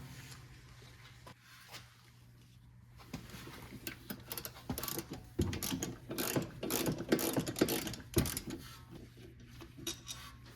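A wrench works a rear brake bolt on a 2018 BMW M550i: quiet, close ratcheting clicks that start sparsely, then build into rapid bursts of metallic ticking in the second half, with no talking.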